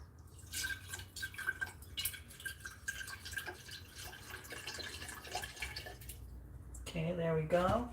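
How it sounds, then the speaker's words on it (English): Beef broth poured into a jar in a home kitchen gives a steady trickling, dripping liquid sound lasting several seconds, with a voice speaking briefly near the end. "I'm gonna pour it into the jar."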